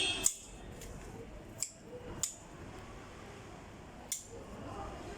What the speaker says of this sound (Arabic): اقصها بطول من 15 الى 20 سم، قص مايل من فوق بالطريقه دي